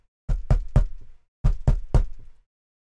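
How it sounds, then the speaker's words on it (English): Two sets of three sharp knocks on a door, close and loud, separated by a short pause, with no voices over them. "Knock, knock."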